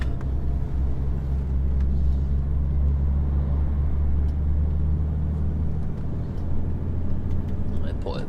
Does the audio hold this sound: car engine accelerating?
yes